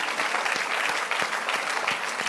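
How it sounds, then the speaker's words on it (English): Church congregation clapping together during a worship service, a dense steady burst of many hands heard up close, continuous and even for a couple of seconds with no talking over it. "Let's give the Lord a clap offering."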